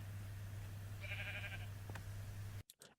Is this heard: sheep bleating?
yes